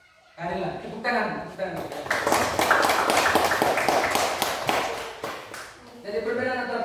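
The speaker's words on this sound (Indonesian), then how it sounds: "Tepuk tangan." A classroom of students claps for a classmate during a lesson on plant reproduction, a burst of quick, close hand claps lasting a few seconds between stretches of a teacher talking.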